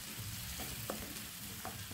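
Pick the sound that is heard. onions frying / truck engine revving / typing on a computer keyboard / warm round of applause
onions frying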